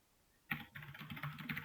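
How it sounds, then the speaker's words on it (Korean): Typing on a computer keyboard, quiet close-up key clicks starting after a brief silence and continuing in an irregular, steady run. "타이핑을 해볼까요, 같이?"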